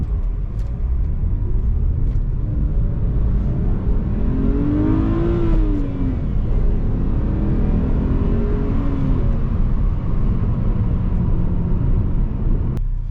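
A BMW E92 coupé driving on the road, with a steady loud engine rumble and rising and falling revs as it shifts through the gears, continuous throughout.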